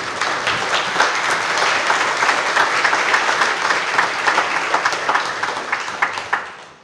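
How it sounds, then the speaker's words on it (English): A church congregation gives a long, warm round of applause during a Sunday service, dense and steady clapping that holds for several seconds before tapering off at the end. "let's give her a great embarrassing round of applause"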